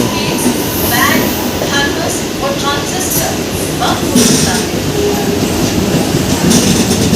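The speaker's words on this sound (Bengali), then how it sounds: "আবার দেখা হয়ে গেল প্রাগরাজ রামবাগ বিভূতি এক্সপ্রেসের সাথে এই সেই ট্রেন" The Prayagraj Rambagh Vibhuti Express passes close by, giving a loud, steady rail rumble with rhythmic wheel clatter throughout, and faint voices may be present in the background.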